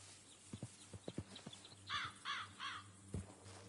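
Hooves clip-clop in a short irregular run of sharp knocks in a video game, joined midway by a few bright cawing bird calls, with one more hoof knock near the end.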